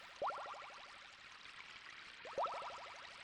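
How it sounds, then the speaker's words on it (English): A cave river from the SNES game Mouryou Senki MADARA 2 gives a steady, soft rushing flow, with two brief, bright drip-like plinks rising above it a couple of seconds apart. "river sounds"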